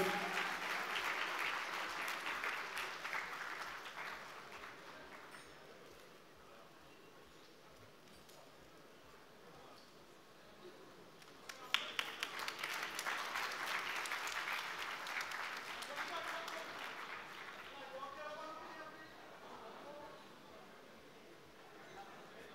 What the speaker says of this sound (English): Ladies and gents, huge round of applause.